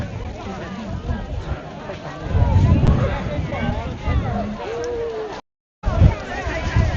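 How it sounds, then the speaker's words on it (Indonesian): Strong gusting wind buffeting the microphone high on a snowy mountain at about 4,500 meters, a loud continuous rumble with a brief cut near the end, with people's voices mixed in. "angin lumayan kencang di sini"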